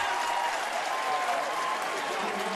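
A football stadium crowd cheers and applauds after a running play, a dense, steady roar of clapping and voices that holds at full strength from start to finish.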